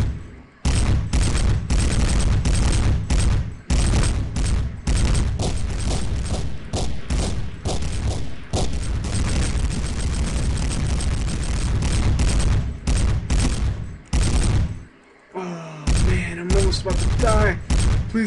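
Rapid, dense gunfire from a sniper rifle in the video game Dark Flow: loud, close shots crowded into near-continuous bursts, with a brief lull before the firing resumes.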